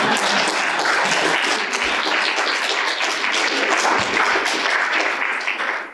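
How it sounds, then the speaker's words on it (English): A large audience at a library's 50th annual Dr. Martin Luther King Jr. celebration applauds in a dense, sustained wash of clapping that holds steady for several seconds before tapering at the end. "You're welcome to applaud for the library."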